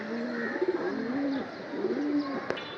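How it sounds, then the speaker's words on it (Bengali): Pigeons at a loft give soft repeated cooing calls, close and fairly quiet, with a brief sharp tap near the end. "কবুতর নাড়াচাড়া না দিলে, নিচে না নামলে বোঝা যাবো না"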